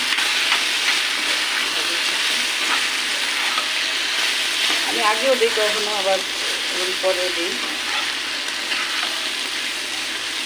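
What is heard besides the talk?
egg frying with onions in a pan, stirred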